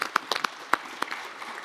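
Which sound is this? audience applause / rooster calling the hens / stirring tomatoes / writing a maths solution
audience applause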